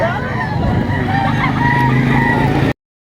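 A bullstag rooster at a poultry market crows loudly and close by in one long, wavering call that stops abruptly, with market chatter and background noise underneath.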